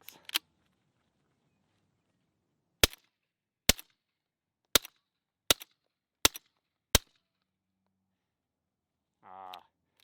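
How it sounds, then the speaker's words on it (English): A suppressed SIG Sauer P938 pistol fires 147-grain subsonic rounds as seven sharp, muffled cracks. The first comes alone and the other six follow about a second apart with pauses in between, and a short burst of speech comes near the end. "Now we'll see how it does in James Bond configuration with 147 grain subsonics"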